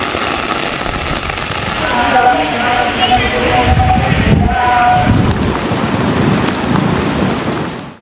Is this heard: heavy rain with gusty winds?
yes